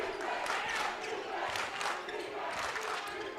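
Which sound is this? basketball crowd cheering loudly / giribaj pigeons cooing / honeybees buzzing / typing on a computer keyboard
basketball crowd cheering loudly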